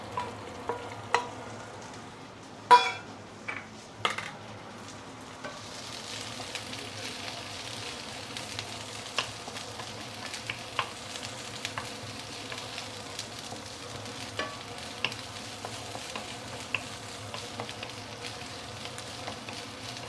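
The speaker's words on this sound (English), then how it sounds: "So you saute until the veggie started to soften." Vegetables with garlic sauteing in a pan for mee goreng: a soft, steady sizzle and fry runs throughout, with occasional sharp clacks and scrapes of a utensil, close but fairly quiet and without talking.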